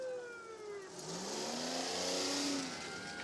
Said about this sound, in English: looks like it's a cool half-track type vehicle